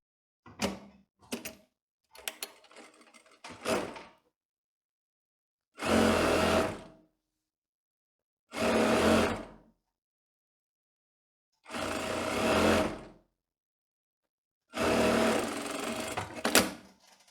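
A sewing machine runs in four separate bursts of a few seconds each, topstitching a tailored skirt, with brief handling noises and pauses between them.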